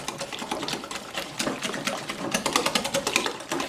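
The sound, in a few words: whisking eggs into sourdough crepe batter with a whisk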